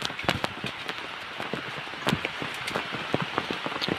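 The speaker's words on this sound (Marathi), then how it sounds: "पाऊस काय थांबायचं नाव नाही घेत आहे" Steady rain patters on leaves and surfaces, with scattered heavier drops tapping irregularly close by, continuous and without voices.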